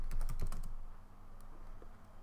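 A computer keyboard being typed on to enter a command: a quick burst of close, crisp keystrokes in the first second, then a few lighter isolated taps.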